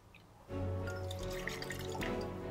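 Bombay Bramble gin pours into an ice-filled cocktail shaker, a steady close liquid trickle that starts suddenly and runs on evenly with faint drips and clinks.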